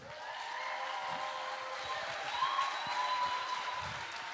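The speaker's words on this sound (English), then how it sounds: "I want you guys to clap your hands as loud as you can in the building" Studio or concert audience applauding for a singer at a live show, a steady wash of clapping at moderate level with a faint sustained tone running through it.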